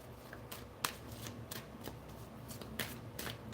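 A deck of tarot cards is shuffled by hand, making repeated crisp riffling flicks and snaps in short bursts over a low background hiss, close and fairly quiet.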